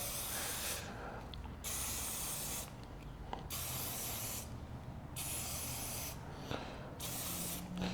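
Chain lube sprayed onto a motorcycle chain in four or five steady hissing bursts, each lasting about a second, with short quiet gaps between them, close and fairly faint.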